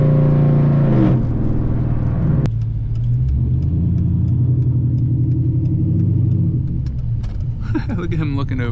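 A tuned Dodge SRT8 V8 engine rumbles loudly and steadily up close, with a brief rev near the start and people talking over it toward the end.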